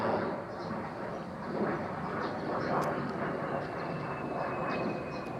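Several airplanes pass overhead one after another, a steady broadband roar that swells and fades slightly throughout without a break.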